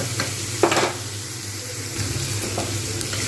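Sweet potato frying in oil with poppy seeds, a close steady sizzle broken by a few scraping stirs of a spatula through the pan, no talking.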